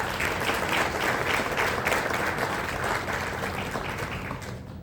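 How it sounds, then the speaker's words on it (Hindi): Loud audience applause at a Hindi-language gathering, dense continuous clapping from a crowd that holds steady and then tapers slightly toward the end. "इनके लिए मैं जोरदार तालियां चाहूंगा"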